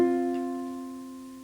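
A musical interval of a fourth: two tones sound together and ring out cleanly, slowly decaying, alone and close with no voices.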